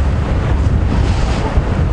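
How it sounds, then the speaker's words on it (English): Strong wind buffets the microphone in a steady, loud roar during an open-vehicle safari drive, with no clear voices over it. "It's too windy for them."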